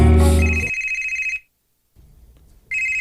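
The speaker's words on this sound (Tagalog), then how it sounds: "Tawagan ako si Rolando" A telephone rings in repeated electronic trills, moderately loud and close, then cuts to a short silence before the next ring begins.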